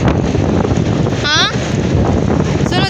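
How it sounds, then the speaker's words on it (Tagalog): Steady, loud wind roars across the microphone, blustery and buffeting, with brief high whistling chirps breaking through partway and again at the end. "Hangin."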